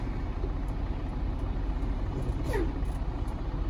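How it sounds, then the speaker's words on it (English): A semi truck tractor reversing with its tractor brakes released while the trailer tandems are slid, giving a steady, close diesel engine rumble with no talking. "now that the tractor brakes are released and we're in reverse, now we're gonna go ahead and go in reverse."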